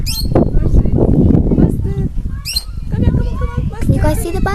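A bird calls from a tree in repeated sharp chirps and squawks, close and fairly loud, mixed with rustling and the chatter of people talking nearby.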